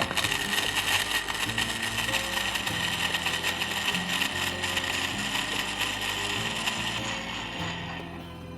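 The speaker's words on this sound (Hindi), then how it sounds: "इसको अच्छा सा हम ब्लेंड कर लेंगे अपने वेस्ट पॉइंट के ब्लेंडर में" A Westpoint blender whirs loudly and steadily as it blends a mint margarita with 7 Up, giving a constant mechanical grind that eases off near the end, with no talk over it.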